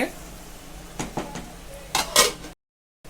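A metal lid clanks onto a cooking pot of frying bheja masala, giving a few close sharp clinks and a brief rattle after light kitchen shuffling, then sudden silence.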